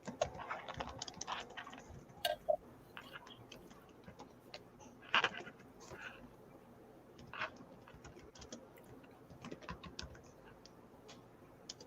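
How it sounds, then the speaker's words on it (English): Typing on a computer keyboard while entering a school name, with irregular bursts of light clicking keystrokes and a few sharper taps, fairly close and moderately quiet. "I'm typing a real school name"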